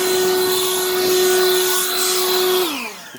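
A Harbor Freight Lynxx 40V cordless leaf blower whines loud and close with a steady high-pitched motor tone blowing gravel, then winds down as it is switched off at the end.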